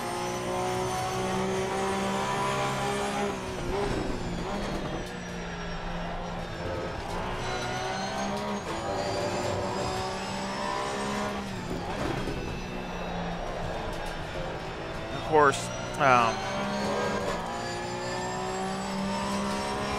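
The Porsche Cup race car engine in the Assetto Corsa Competizione racing game, on the Zolder circuit, drones steadily and rises and falls through gear changes, with two sharp revving blips near the end as someone talks over it.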